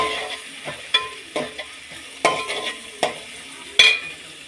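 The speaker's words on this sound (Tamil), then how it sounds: "லைட்டாக வெங்காயம் போட்டுக்கிறேன். லைட்டாக வதக்கி விட்டுருங்க." Onions sautéing in a pan, a steady close sizzle broken by a handful of sharp scraping stirs of a spoon against the pan, no voices.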